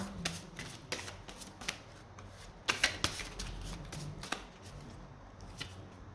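Oracle cards depicting Ganesha are shuffled by hand in a quiet room, giving a series of soft, quick riffling bursts with brief pauses between them, close and fairly faint, with no talking.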